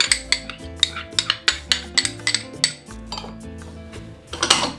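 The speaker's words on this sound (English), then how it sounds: "we're gonna mix that up with our spoon here" A small spoon mixing hoisin sauce into a mixture in a dish for jalapeno poppers, giving quick bright clinks and taps against the bowl in an irregular rhythm, close and fairly loud, no voices.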